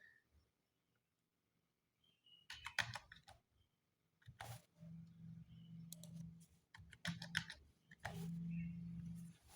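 Someone types a new password on a computer keyboard while setting up a ZTE WiFi router. Short clustered bursts of key clicks come in uneven runs separated by pauses, close by and fairly quiet, with a low hum underneath.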